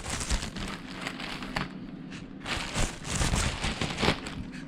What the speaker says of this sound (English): Let's cut the bag.